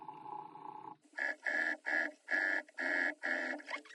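A domestic sewing machine back stitches at stitch length 3 on bag side seams and box corners. It runs in about seven short, even motor bursts close by, after a softer lower hum.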